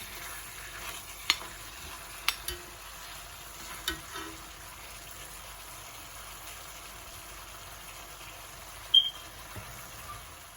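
Jaffna-style mutton curry sautés with meat spice powder in a pan, a faint, low hiss of cooking broken by a handful of sharp utensil clinks and scrapes at irregular intervals, with no voices.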